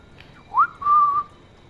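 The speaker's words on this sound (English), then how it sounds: "Press circle to whistle and attract a nearby enemy." A short two-part whistle from a character in Assassin's Creed Black Flag, a quick upward slide and then a steady held tone, close and clear against a quiet game background.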